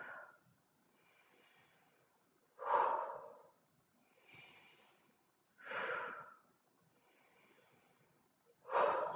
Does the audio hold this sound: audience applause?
no